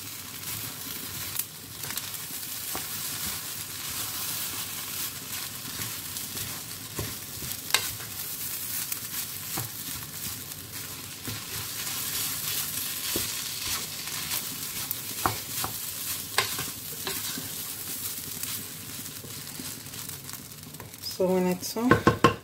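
Nigerian jollof rice sizzles and crackles in a pot as it is stirred and turned, a steady bright frying hiss with scraping spoon strokes, and a louder clatter of stirring near the end.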